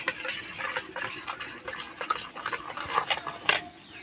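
Batter being stirred in a bowl, seasoned with salt, sugar, a pinch of asafoetida, ginger paste and baking soda for pea-stuffed naan puri: steady close scraping and clinking of a spoon against the bowl, with soft wet mixing throughout.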